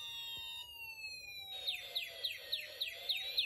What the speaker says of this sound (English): The siren you hear is that of a fire engine.